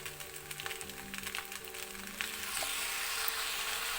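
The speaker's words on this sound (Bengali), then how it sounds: "এবার আমি দিয়ে দিচ্ছি সয়া সস।" Chilli egg noodles sizzle and fry in a hot pan as soy sauce goes in, a steady crackling hiss that swells louder midway, close, with light stirring clatter and no speech.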